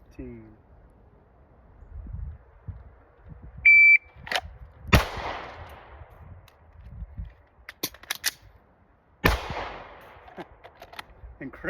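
Pistol shots ring out in a timed shooting drill: a sharp single report, a brief electronic timer beep, then several loud cracks in uneven bursts with gaps between them, low talk murmuring between strings.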